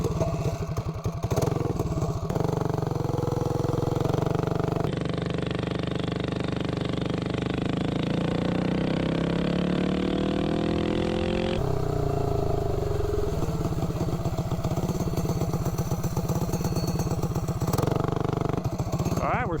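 A minibike engine fitted with a three-foot-long intake manifold runs continuously and loudly, its pitch rising and surging through the middle. A voice is heard at times over the engine.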